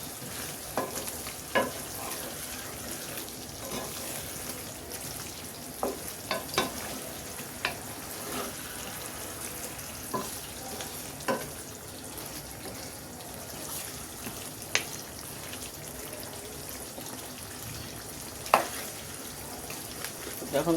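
Chicken pieces for a Hyderabadi-style chicken fry cook in a pan and are stirred now and then, giving soft scattered scrapes and clicks over a quiet, steady sizzle.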